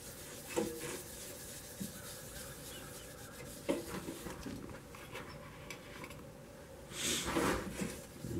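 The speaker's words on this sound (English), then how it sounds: "I'll put it on this way and just rub it on. Make sure you rub it all over real good." Wax being rubbed by hand over a turned spalted walnut vase, giving a soft, steady friction rasp with a few brief louder scuffs near the end, quiet and close, with no talking.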